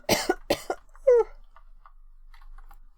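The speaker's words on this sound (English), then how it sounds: "Sorry for coughing." Two sharp coughs close to the microphone, followed by a short throat-clearing sound and a few faint keyboard clicks in an otherwise quiet room.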